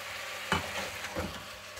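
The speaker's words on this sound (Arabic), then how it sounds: "ملي يتحمر غنزيدو عليه البصله" Onion added to chicken frying in a pan for chicken vermicelli, a steady close sizzle with a couple of soft stirring scrapes, no talk.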